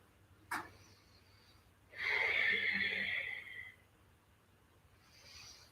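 Breathing during a yoga twist pose: a sharp short sniff, then one long audible exhale lasting nearly two seconds, close and soft in a quiet room, with a fainter breath trailing at the end.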